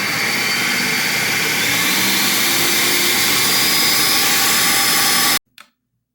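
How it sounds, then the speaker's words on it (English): A blender whizzes continuously at a loud, steady high pitch while blending hummus, running alone for about five seconds before cutting off abruptly, followed by a brief faint knock. "I left it in the blender bowl and whizzing around for about 5 minutes."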